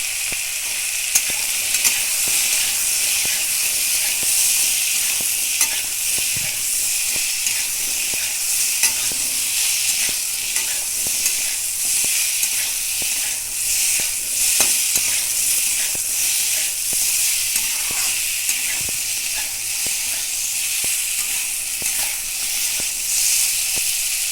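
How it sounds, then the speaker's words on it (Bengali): Pieces of ridge gourd fry in oil in a pan with a steady, bright sizzle and hiss, punctuated by small crackles and occasional stirring. "ঝিঙেটা কিন্তু ভালো করে ভাজা হয়ে গেছে"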